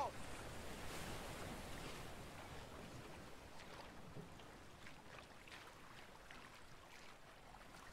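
Rushing river rapids and a waterfall in the video game A Way Out: a dense, steady wash of churning water that holds at an even, loud level for the whole stretch, with no clear voices over it.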